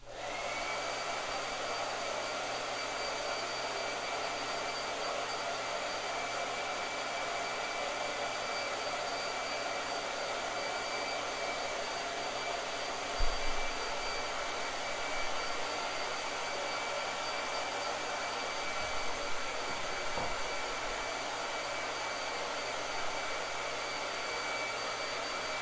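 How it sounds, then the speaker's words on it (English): Blow dryer running steadily for a long stretch, a constant airy whoosh with a faint steady whine, close by, with a couple of soft knocks partway through and no talk. "All right, blow dryer."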